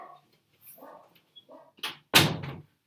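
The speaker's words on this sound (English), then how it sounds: "Sorry, I'm just closing my door" A home room door being shut, a short sharp thud of the door closing after faint shuffling and handling noises, close and isolated with no talk.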